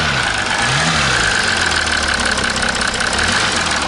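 A 2016 Audi A6 engine idles nearby with a steady, even hum and a fine mechanical rattle running through the whole stretch, no voices present.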